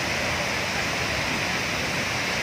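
A waterfall with strong rushing water pours in a constant, dense hiss, steady and fairly close, with no other sounds.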